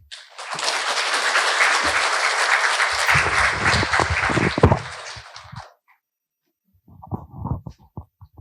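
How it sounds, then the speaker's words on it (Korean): Loud, dense audience applause welcoming a professor's lecture at a library and information association conference, sustained for several seconds, then tapering off into silence before brief close sounds of the speaker at the microphone. "박수로 강연을 청해 듣도록 하겠습니다."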